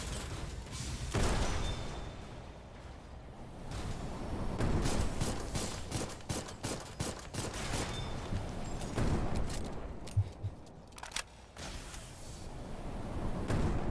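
Video game gunfire in Doll Nest: rapid, repeated shots and heavy booms in dense bursts, loud and nearly continuous over a busy battle background.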